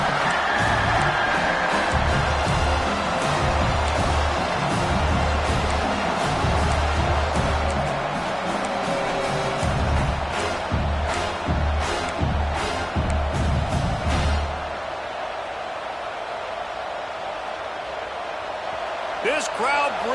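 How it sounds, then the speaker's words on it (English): A packed stadium crowd at a college football game, SC vs the Noles, roars and cheers in a loud, sustained wash beneath a commentator's talk, then drops sharply near the end. "This crowd bringing the energy and noise early"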